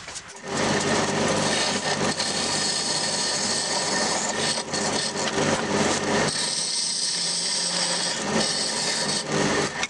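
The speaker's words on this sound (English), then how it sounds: "now what I gotta do is I gotta turn this tenon down to an inch and a little less" Continuous abrasive whirring and scraping of wood being turned down to a tenon for a peppermill on a spinning lathe, steady and close, with a brief dip in the low rumble partway through.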